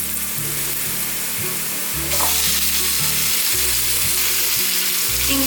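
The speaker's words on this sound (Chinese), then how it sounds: "香菇炒香后，放入黑木耳" Shiitake mushrooms and black fungus being stir-fried in a wok give a steady loud sizzle, with rhythmic scraping strokes of the spatula repeating across the whole stretch.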